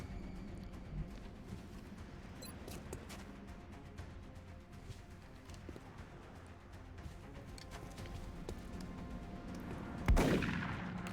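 Gunfire in the turn-based strategy game XCOM Long War: a dense, continuous clatter of shots and battle noise, ending in one loud, sharp blast near the close.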